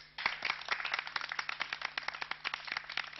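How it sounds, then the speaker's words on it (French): Studio audience applauding a guest singer on a 1977 French television programme: dense, continuous clapping from many hands, steady and fairly loud, with the dull, band-limited tone of an old broadcast recording. "On l'applaudit."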